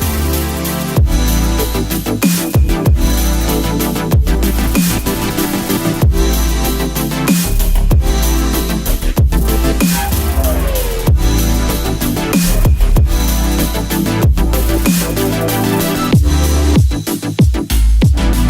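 An electronic track plays back at full volume, a dense, driving layered mix with heavy low-end beats and occasional sharp cuts and breaks, no talk over it.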